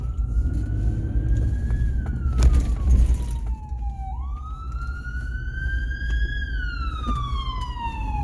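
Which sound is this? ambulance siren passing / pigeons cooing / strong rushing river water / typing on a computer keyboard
ambulance siren passing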